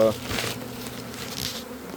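Dense, steady buzzing of many honeybees swarming around an opened hive box during a colony split, a continuous insect hum filling the scene close by.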